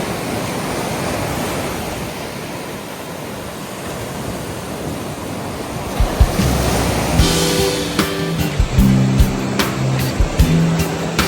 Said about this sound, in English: It is way too windy here in the shade.